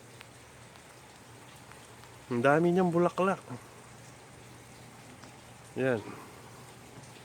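Steady rain falls during a storm, a soft continuous hiss across the whole clip, with a person briefly speaking over it in two short bursts.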